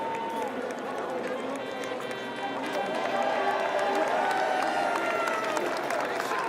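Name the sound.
crowd shouting and cheering at Vendée Globe dock out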